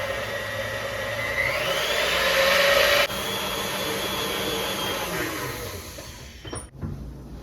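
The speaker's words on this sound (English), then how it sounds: "we're just gonna mix this. I like to use the beater attachment to kind of get it combined." An electric mixer with a beater attachment whirs steadily through egg white batter, a loud continuous motor drone that rises in pitch midway and cuts off near the end.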